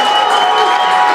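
Home football crowd cheering at a high school game, a steady, loud wash of roaring voices and scattered applause filling the whole moment without a break.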